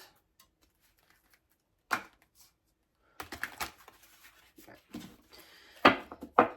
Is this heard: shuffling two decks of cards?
yes